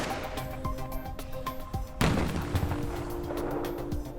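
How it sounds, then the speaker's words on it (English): A firework's lift charge fires and its payload bursts in one sharp, booming blast midway, preceded by faint clicks and followed by a dull rumbling tail, all fairly quiet overall. "The lift charge blew first, then off went the payload."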